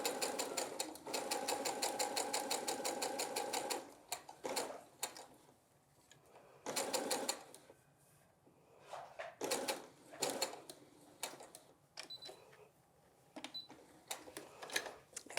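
A domestic sewing machine stitches down a flat fabric seam over a raw edge, running in a steady rapid burst for about four seconds, then in shorter stop-start runs with pauses and fabric handling in between, close and moderately loud.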